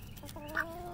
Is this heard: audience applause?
no